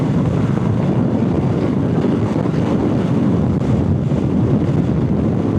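Strong wind buffets the microphone in a continuous loud roar with no voices present, heard while riding a Honda Forza 250 scooter uphill.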